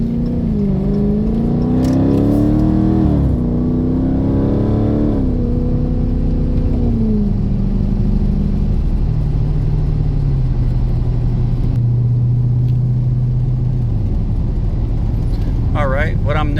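A red 2018 Dodge Daytona 392 engine running while driving, a steady low drone that rises and falls with gentle revving shifts, loud and continuous throughout with faint other noise near the end.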